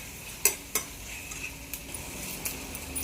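Paneer for a dry paneer curry is fried in a pan under a constant soft sizzle, with two sharp clinks of the spatula near the start and lighter scraping stirs afterward.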